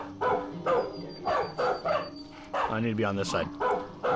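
A dog in the video game Far Cry 5 barks and yips in short bursts while someone talks over it.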